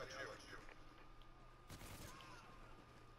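AK-12 gunfire in Call of Duty: Ghosts, a faint, rapid crackle of shots lost in a dense, steady game mix, with one brief louder burst near the middle, while someone talks over it.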